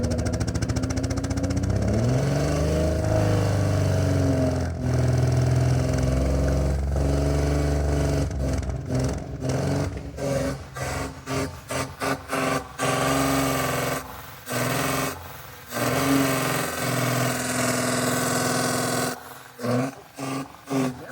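A misfiring engine revs hard, its roar stumbling and cutting out repeatedly in rapid stutters and choppy bursts instead of climbing smoothly.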